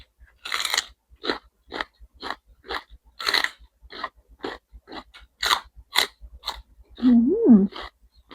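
Crisp raw celery bitten and chewed up close, a steady series of sharp wet crunches repeating roughly every half second, ending with a short hummed murmur.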